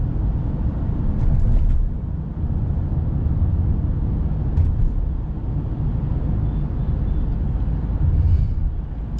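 Tata Safari XZA Plus Adventure Edition SUV driven in gear at about 60 km/h, a steady loud low engine and road drone with wind rush inside the cabin, without speech.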